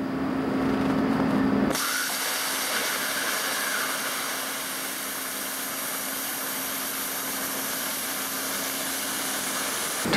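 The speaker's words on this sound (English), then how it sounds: "So as I'm following this cut along, at the end you'll see I want to stop and I want to roll a little bit to make sure that arc severs that piece" Plasma cutter arc slicing through steel plate, starting abruptly after a short quiet stretch and continuing as a steady, loud hiss with a faint hum, no voices over it.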